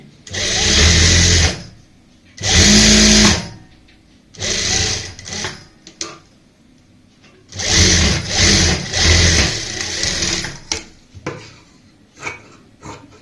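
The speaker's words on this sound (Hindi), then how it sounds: "तो दूसरी साइड भी हम सेम ऐसे ही सिलाई लगाएंगे।" A sewing machine stitches a neck design on plain fabric with double lace, running in loud, close bursts of steady whirring separated by short pauses, about five runs in all.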